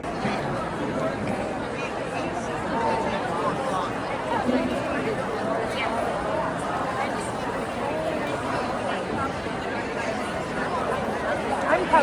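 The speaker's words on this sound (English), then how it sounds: "So this gives you an idea of the crowd that's here." A large indoor crowd on the opening day of a Canadian quilt show fills the air with continuous overlapping chatter, a steady hum of many voices with no single speaker standing out.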